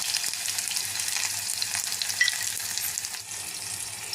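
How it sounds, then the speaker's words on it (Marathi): Garlic, ginger, onion, tomato and whole spices sizzle in hot oil in a pan over a high flame, a steady close frying crackle with stirring scrapes and no talking. "हे छान परतून घ्यायचं आहे आपल्याला।"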